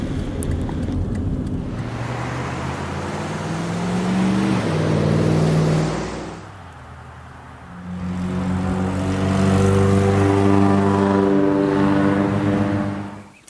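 Car on Route 59 pulling up to Union Cemetery: a steady engine drone and tire rumble from inside the vehicle, rising as it speeds up, easing briefly midway, then building again, with no talking.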